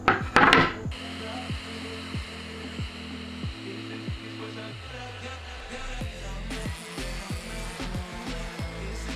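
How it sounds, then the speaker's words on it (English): Walnut and maple plaque pieces being sanded with a power sander, a steady motor whine with repeated rising and falling pitch sweeps as the tool is worked, and a few knocks at the start. "I'm just going to give these a little sanding."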